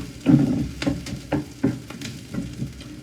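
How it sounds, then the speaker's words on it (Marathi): Grated coconut goes into a pan of roasted onions and is stirred while frying, producing a series of close scraping strokes over a soft, low sizzle. "कांदो भाजून झाल्यानंतर खोबरा घालतलाय"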